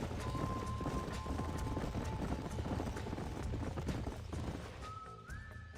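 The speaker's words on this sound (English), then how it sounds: "These are fine horses." Horses clip-clop steadily in the Red Dead Redemption game on PC, a close, continuous run of hoofbeats with a faint whistle-like tone drifting above, fading slightly toward the end.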